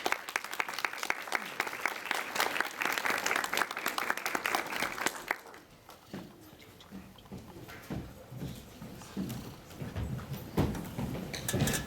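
An audience applauds as actors come on stage at a school drama club performance, with dense clapping for about five seconds that thins into scattered claps and murmuring.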